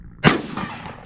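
A single gunshot fired outdoors at a piece of plastic on a farm, one sharp loud crack followed by a short rolling echo.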